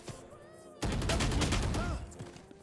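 A Spectre submachine gun fires in a video game, a rapid loud burst of automatic shots lasting just over a second, followed by fading echoes and faint background game sounds.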